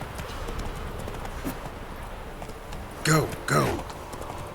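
Hoofbeats of Roach, Geralt's horse in The Witcher video game, run beneath game sound and a voice, with two louder shouted calls near the end.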